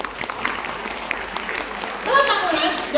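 An audience at a business opportunity sharing event claps steadily, with voices, including children, talking and calling out through the applause.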